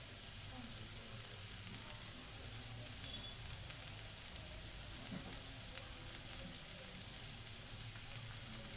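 Egg curry frying in a pan with coriander and cumin powder, a steady close sizzle with faint stirring scrapes running throughout.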